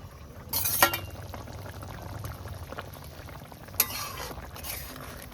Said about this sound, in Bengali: হ্যাঁ, ফুটে গেছে ঝোল আলুটা।